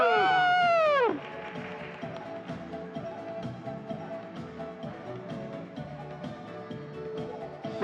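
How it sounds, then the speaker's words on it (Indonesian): Applause from the audience at a church women's celebration and thanksgiving feast, following a singing voice and settling into steady clapping with crowd murmur beneath for several seconds. "Kasih tepuk tangan yang meriah buat mereka"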